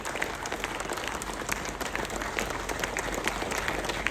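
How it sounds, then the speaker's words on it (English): A panel discussion audience breaks into sustained applause, a thick, continuous roar of many clapping hands that stays loud and even from start to finish with no talk over it. "And give a applause like this."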